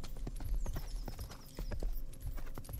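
Horse hooves clip-clop in a medieval-themed GTA video game, a quick steady run of hoofbeats with no talk.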